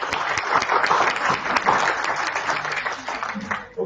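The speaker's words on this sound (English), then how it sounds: "Please, a round of applause." An audience at a tax policy conference session applauds loudly and continuously, the clapping thinning slightly near the end with a hint of a voice.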